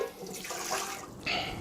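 Water pours from a tap into a bread maker pan for a sourdough loaf, a steady close splashing run that swells louder near the end, with no talking.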